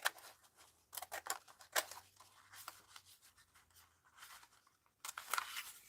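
Scissors snip through paper while a section is cut out for a craft, with close, crisp irregular cuts in short bursts and soft rustling between them.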